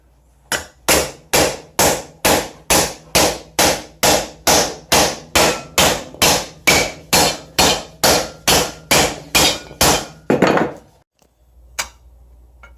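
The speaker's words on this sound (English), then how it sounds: "we dished it just a little bit with a wooden hammer into a leather bag" A wooden hammer dishes a metal sheet into a leather bag, about twenty loud, evenly spaced blows in steady rhythm, followed by a pause and one last tap.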